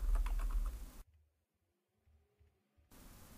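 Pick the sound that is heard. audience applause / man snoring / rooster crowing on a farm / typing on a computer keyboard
typing on a computer keyboard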